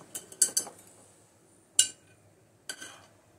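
Cookie dough being mixed in a bowl with a utensil for gluten-free, sugar-free cookies made with ghee: a few sharp clinks and scrapes come close together at the start, then two more isolated knocks follow after pauses.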